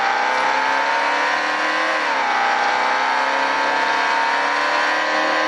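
A stock car engine in the G.D. McDuffie tribute car in a racing video game, holding a steady high drone around a concrete-banked oval with a brief dip in pitch, loud and continuous with no talk.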